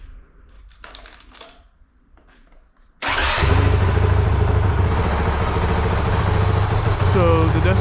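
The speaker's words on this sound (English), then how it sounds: "I'm gonna do the decibel test from both a foot away from the exhaust and about 4 feet for the DSLR camera." A 2021 Honda CRF450RL dirt bike fitted with a Yoshimura exhaust fires up after a quiet stretch, then idles loudly and close with a steady, rough engine drone that holds to the end.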